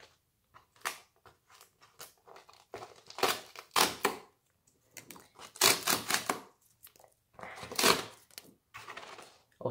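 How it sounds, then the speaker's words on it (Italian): A small gift package is torn open and unwrapped in a run of sharp, close crinkling and ripping bursts, separated by brief pauses, with no voices. "apriamo questo bellissimo pacchettino"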